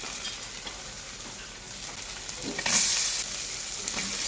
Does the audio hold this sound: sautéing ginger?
yes